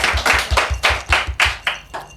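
An audience claps hands in a quick, fairly even run of sharp claps lasting a couple of seconds, close and lively, with no voices over it.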